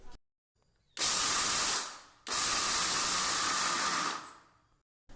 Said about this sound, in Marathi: मिक्सरच्या भांड्यामध्ये अर्धे शेंगदाणे घालून मिक्सर चालू बंद चालू बंद करत दळून घ्यायचे आहेत